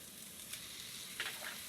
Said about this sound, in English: You're going to hear it sizzle.